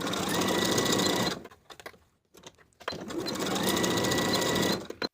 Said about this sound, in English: Sew the side seams with 1/2 inch seam allowance and press the seams open.